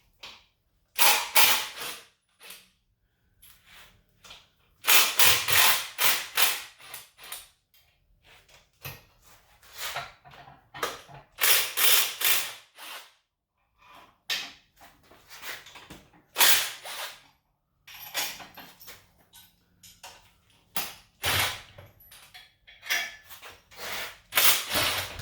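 An engine hoist lowers an Olds 403 engine onto OSB in a shop, with irregular creaks, clanks and metallic knocks in short bursts separated by quiet gaps.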